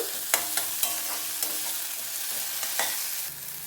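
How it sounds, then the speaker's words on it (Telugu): Chopped tomatoes sizzle in a pan for egg curry, a soft steady frying hiss close by with a few light clicks of stirring, no speech. "కొంతసేపు టమాటాని వేగనిద్దాము"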